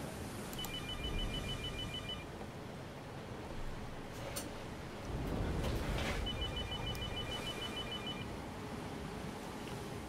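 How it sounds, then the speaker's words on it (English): A phone rings twice in repeated electronic trills, moderately loud over steady background noise from a computer game session. "My phone's ringing."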